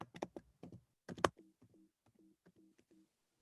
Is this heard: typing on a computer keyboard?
yes